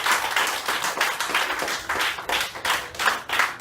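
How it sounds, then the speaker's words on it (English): A class audience at a teaching demonstration claps and applauds in a full, lively burst, with the clapping swelling in rough rhythmic waves and little talk. "Let's give her a big round of applause."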